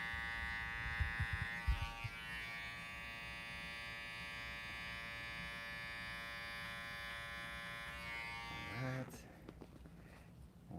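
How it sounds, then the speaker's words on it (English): An electric hair trimmer buzzes steadily and close while cutting a boy's hair in a barber setting, running continuously with brief low thumps early on and a short change in tone near the end. "Know where you're going to go with that trimmer before you put it on the client's skin."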